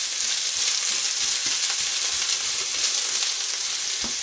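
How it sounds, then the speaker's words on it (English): Bean sprouts sizzle steadily in a hot pan, a continuous close frying hiss with occasional soft taps of stirring. "you just want to be stirring and frying those for a couple of minutes"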